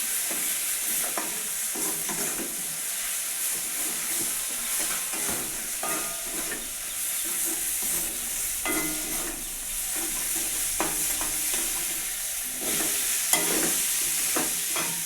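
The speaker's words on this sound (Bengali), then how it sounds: "এখন এই বিনস আর আলু দিয়ে ভালো মতো কষিয়ে নেবো মশলার সাথে" Beans and potatoes with spices sizzle steadily in a pan over a newly built clay stove while a utensil scrapes and stirs in irregular strokes, close up, with no voices.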